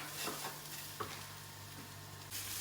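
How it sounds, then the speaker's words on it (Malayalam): Fresh grated coconut sautés in a pan with a soft, steady sizzle and a few light scrapes of stirring, quiet and close, with no talking. "ഈ പച്ചത്തേങ്ങയാകുമ്പം കുറച്ച് സമയം എടുക്കും ഇത് വഴന്ന് വരാൻ"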